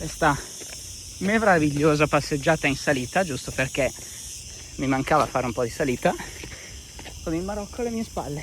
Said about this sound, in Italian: c'è un rumore di grilli fortissimo